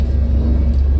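A Jeep Cherokee with a swapped engine and hydro-boost brakes idles steadily, its power steering pump giving off a faint whine over a low, even engine rumble, close by and with no speech.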